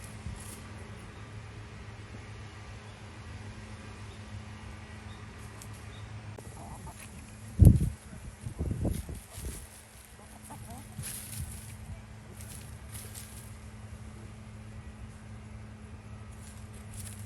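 A rooster in a coop lets out odd, abrupt noises: one sharp loud burst followed by a few shorter, rougher sounds, then quiet hens and faint ambient murmur.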